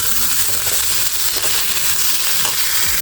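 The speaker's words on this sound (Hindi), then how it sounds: "अब हम डाल देंगे इसमें टमाटर, और इसे थोड़ा पका लेंगे।" Tomatoes frying in a pan with onion, garlic and chili, giving a steady, close sizzle with crackling pops that runs unbroken for the whole stretch, no voices over it.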